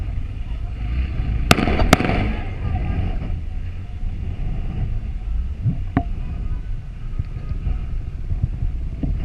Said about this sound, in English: the officer fires twice at the thief